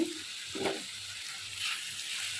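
Ginger and garlic paste sautéing in a pan for dried ribbonfish bhuna, making a soft, close sizzle with a few brief stirring scrapes and no voices.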